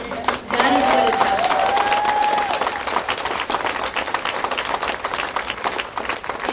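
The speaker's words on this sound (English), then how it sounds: "please applaud, because Washington and Colorado have defanged the tiger" An audience at a Seattle Cannabis Cup legalization panel breaks into sustained applause, loud and dense at first with a whoop rising above it, then gradually thinning, with some crowd voices mixed in.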